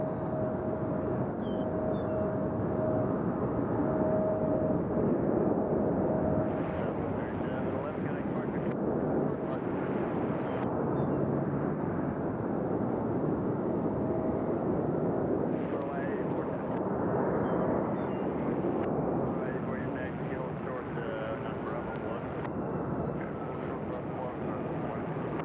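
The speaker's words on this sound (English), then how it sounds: "It looks like Air Canada's taxiing now." An Air Canada airliner taxiing at Nashville International Airport gives a continuous distant jet-engine roar and whine, steady for the whole stretch, mixed with wind noise and no talk.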